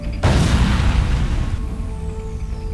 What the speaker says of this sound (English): Set off the EPS conduit explosion.